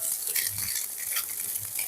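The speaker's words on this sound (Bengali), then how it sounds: "এরপর এটাকে আমি ভেজে নেব। আঁচটাকে আমি হাইতে রেখেছি, যাতে ভাজাটা ভালোভাবে হয়ে যায়।" Ingredients for fried rice fry on high heat in a wok with a bright, dense crackling sizzle and a few low scrape-like thumps from stirring.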